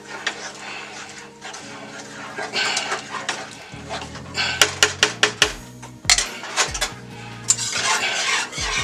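A metal whisk scrapes and clanks against a metal pot while a sauce for scalloped potatoes with ham is stirred, giving close, irregular metallic knocks and rattles with scraping between them, and no one talking.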